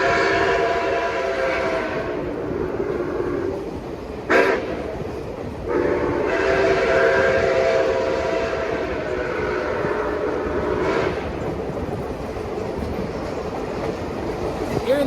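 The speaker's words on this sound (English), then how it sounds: "Hearing that chime whistle and all, it's a whole lot of fun and all." A steam locomotive's chime whistle, NKP 756, sounds in several long blasts over the steady rumble and clatter of the moving train on a fall excursion, with short gaps between blasts.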